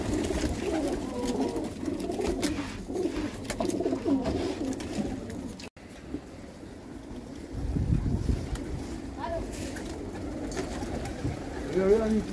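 Low, soft pigeon cooing repeats among rustling and background noise, nearby, with a steadier burst of cooing later on.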